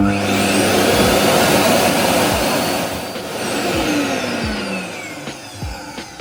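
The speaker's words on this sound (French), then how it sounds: "ça c'était pour demander au dock d'enlever les poussières qu'il y a dans l'aspirateur." Proscenic M9 self-emptying dock pulling dust out of its robot vacuum, a loud, steady suction roar close by that runs the whole time, with faint clicks and a slowly shifting pitch.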